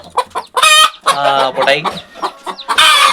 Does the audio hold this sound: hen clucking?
yes